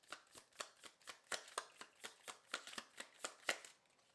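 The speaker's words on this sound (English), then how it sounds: "One more shuffle." A deck of tarot cards being shuffled by hand: a soft, quiet run of rapid riffling flutters in uneven bursts, with no voices over it.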